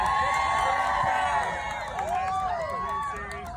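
A crowd cheering and whooping for NASCAR driver Kyle Busch at Chicagoland Speedway, a dense wash of raised voices and shouts that swells and then eases, close and loud throughout.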